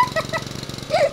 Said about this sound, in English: And I still hear the lawnmower.